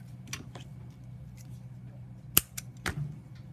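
Scissors snip through a pipe cleaner while making a clay snowman ornament: a few quiet, sharp clicks over a faint room hum, the loudest single cut standing out near the end.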